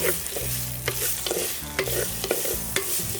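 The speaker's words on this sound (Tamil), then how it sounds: "இது எல்லாத்தையும் ஒரு ரெண்டு நிமிஷத்துக்கு வதக்கிக்கலாம்" Pounded ingredients and curry leaves sauté in coconut oil, a steady sizzle broken by repeated scraping stirs of a spoon against the pan, close and continuous.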